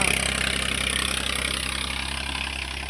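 A New Holland 3032 TX tractor idles with a steady, even diesel chug. The pulsing throb stays close and constant throughout, with no voices over it.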